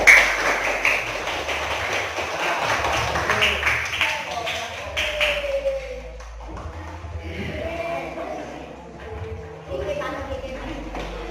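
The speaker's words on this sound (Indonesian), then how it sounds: "Beri tepuk tangan buat kelompok 3." Students in a classroom clap for discussion group 3, a burst of brisk hand claps that thins and fades after a few seconds, followed by a teacher talking over quieter room sound.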